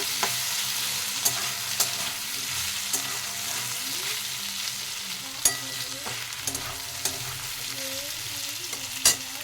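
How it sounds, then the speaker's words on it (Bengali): Ginger-garlic paste fries in a pan and is stirred, giving a steady close sizzle with sharp scraping clinks of the spoon against the pan at irregular moments, and no talking. "আরও দু থেকে তিন মিনিট ভালো করে আদা রসুনটা আমি ভেজে নেব"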